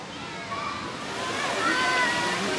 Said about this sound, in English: We have the lovely sound of water at the pool right now as I walk around the pool.